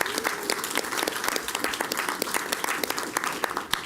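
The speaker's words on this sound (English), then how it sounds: "Let's give DeKalb County a round of applause." Audience applause at a DeKalb County SPLOST II collaborative meeting in Georgia, a steady wash of many hands clapping, dense and moderately loud, with no talk over it.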